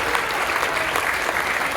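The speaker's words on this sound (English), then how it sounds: "Give the Marines a round of applause." Dense, continuous crowd applause for Marines at a veteran appreciation event, loud and even throughout the short stretch.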